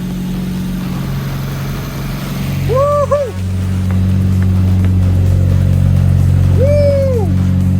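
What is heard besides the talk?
Nissan Silvia SR20 turbo engine running and revving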